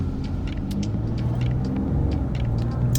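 A car with a shuddering transmission moves off from a green light, its engine rumble steady and moderately loud from inside the cabin, with no voices over it.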